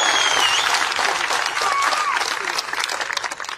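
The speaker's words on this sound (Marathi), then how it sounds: "म्हणून देवेंद्र फडणवीस साहेबांच्यासाठी जोरदार टाळ्या आपण वाजवाव्यात" Loud, dense applause and cheering from a crowd at a Gopichand Padalkar political rally in Jat, holding steady for several seconds before thinning and breaking into scattered claps toward the end.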